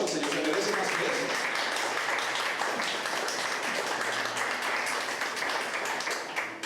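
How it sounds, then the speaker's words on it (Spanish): A church congregation gives sustained applause, a dense wash of many hands clapping steadily throughout, filling the room at an even loudness. "Denle un gran aplauso al Señor, se merece más que eso."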